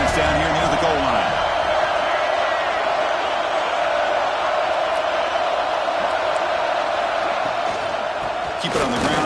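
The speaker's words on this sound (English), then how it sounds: "this big crowd doing everything possible to inspire this defense down here near the goal line" Big stadium crowd roaring steadily in a college football video game, LSU at Auburn, urging on the defense near the goal line; a dense, continuous wall of cheering with a commentator's voice over it.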